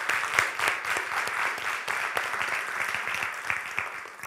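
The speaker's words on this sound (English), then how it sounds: "Let's give her another round of applause" Steady applause from an audience at a city council meeting after the national anthem, a dense wash of many hands clapping at moderate level with no voices on top.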